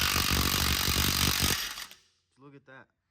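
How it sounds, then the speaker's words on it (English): A Milwaukee impact wrench hammers loudly in a sustained burst while breaking wheel bolts loose on a GMC truck, then cuts off, followed by a short stretch of quiet and a brief voice. "This is a Milwaukee. It works a lot better than the Bauer one that I had earlier. So we'll see if we can break these loose with this."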